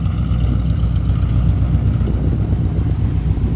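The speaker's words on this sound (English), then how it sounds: "Some nice sounding exhaust." A 1963 Chevrolet C-10 big back window pickup idles with a loud, steady, low exhaust rumble close by, continuous and even with no voices.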